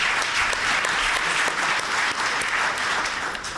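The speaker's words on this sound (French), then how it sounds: "on peut vous applaudir" An audience at a medical lecture applauds, a continuous, even roar of many people clapping that fills the room from start to finish.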